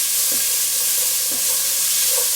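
Onions and peppers frying over medium heat in a pan, a steady bright sizzle with soft crackles and stirring, continuous and close with no voices.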